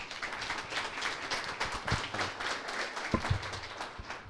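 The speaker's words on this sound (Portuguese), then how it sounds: "Por favor, uma salva de palmas para o Maurício." A talk audience applauds as a speaker is welcomed, a dense and fairly quiet patter of many hands clapping with a few sharper individual claps.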